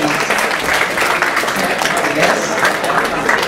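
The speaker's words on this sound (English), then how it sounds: "let us give this another round of applause, please" A round of applause breaks out from an audience at a leadership talk, a brief burst of dense, steady clapping close and fairly loud, with some voices faintly underneath.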